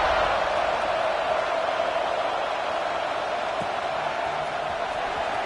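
Steady roar of a stadium crowd in the College Football 26 video game, Maryland at Michigan State, a continuous broadband wash with no distinct cheers standing out.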